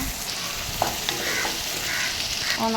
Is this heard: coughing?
no